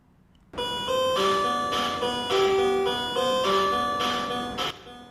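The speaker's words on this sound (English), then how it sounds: "Eight-bit sounds start to spread in the room" Chiptune melody in square-wave tones from a DIY Famicom game console, a bright bouncy electronic tune with steady repeating notes, clean and continuous, no voices.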